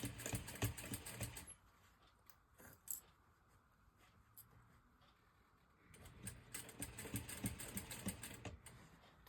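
A sewing machine stitches a crossbody bag closed in two quiet mechanical bursts at the start and near the end, separated by a near-silent pause.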